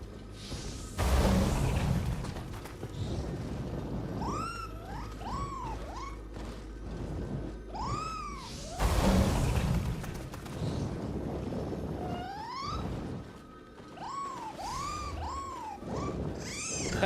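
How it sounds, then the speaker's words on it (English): Cats meow repeatedly in the video game Nioh 3, with several rising and falling calls spread through the clip over whooshing wind and game ambience. Low booms occur at intervals, and no voices are heard. "We go through a whole obstacle course just to pet a cat."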